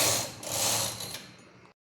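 A knitting machine runs rows of stitches for a baby romper, giving a steady mechanical clatter and rattle that carries for nearly two seconds and then stops abruptly.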